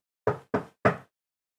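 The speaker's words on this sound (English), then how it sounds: "Now, suddenly, Lucy, you hear a knock on the door." Three sharp knocks on a door, played as a sound effect during a Call of Cthulhu tabletop roleplaying session, evenly spaced and clear with nothing else audible.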